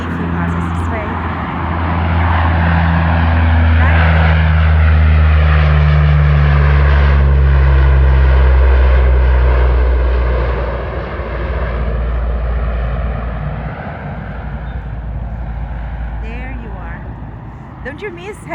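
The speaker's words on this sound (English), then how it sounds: "we're going to catch this plane if he passes this way" A propeller airplane drones loudly and steadily overhead, swelling and slowly fading as it passes through an outdoor natural setting, with a person talking over it.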